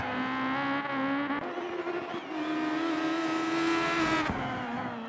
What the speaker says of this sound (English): Even the tyre squeal as the car just goes around the corner and it's just scrambling for grip